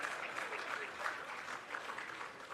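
An audience at a highway infrastructure project event breaks into steady, dense applause, many hands clapping together at a moderate distance without a break.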